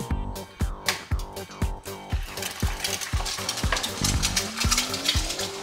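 An egg frying in a pan crackles and sizzles under a run of rapid metallic taps and scrapes from a utensil stirring and working the pan, fairly close and lively, with no talking.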